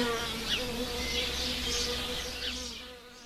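British solitary bees buzz close by, a steady droning hum that wavers in pitch as they move about, fading slightly toward the end, with faint bird chirps behind.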